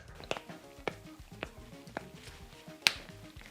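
Several sharp, isolated cracks and pops from problem wrists, spaced irregularly over a quiet background, close by, with one louder snap near the end.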